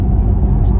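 A Porsche Taycan electric car, a 2.3-tonne sedan with 760 hp and 1050 Nm of torque, accelerates hard, giving a steady, loud low rumble and whir with no speech.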